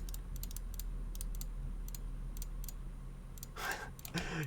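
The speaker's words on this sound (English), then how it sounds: "Clicking all over the place." Sharp mouse clicks in quick bursts near the end, after sparse scattered clicks, while playing Minecraft with the All The Mods 3 modpack, over a steady low hum.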